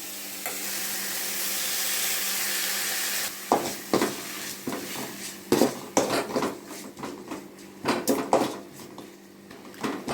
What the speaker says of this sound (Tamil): புதினா ரொம்ப வதங்க தேவையில்ல பாதி அளவுக்கு வந்தால் போதும்